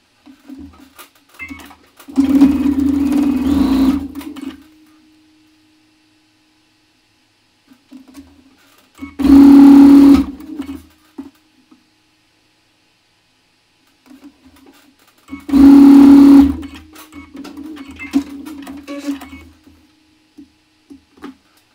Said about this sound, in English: we're going to sew this to this, this to this, and this to this